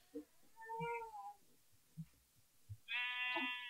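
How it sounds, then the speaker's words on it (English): Two drawn-out bleats from a Minecraft sheep ring out, the second louder and higher, separated by soft low thumps and quiet background sounds. "Sheep noises."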